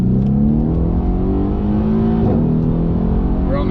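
Ford Focus RS engine held in second gear, a steady loud drone rising in pitch as it revs and accelerates, with a brief surge mid-way and continuous road and cabin noise beneath.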